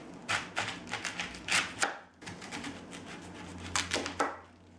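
A knife chopping the hard portion of a cabbage on a cutting board, a run of sharp, close chops in two bursts separated by a short pause, loud and clear with no talking.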